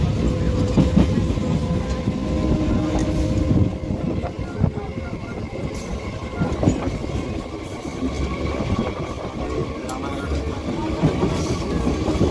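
A train rumbles steadily through Chakdah railway station, with rhythmic wheel clatter over the rails and background noise of the platform throughout.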